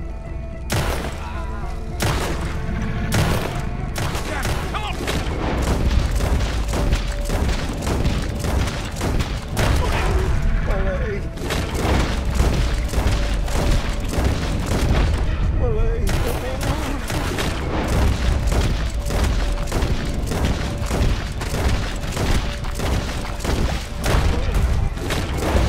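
Heavy gunfire in Red Dead Redemption 2 runs on without a break, with dense volleys of loud shots and booming thuds. Shouting is mixed in with the shots.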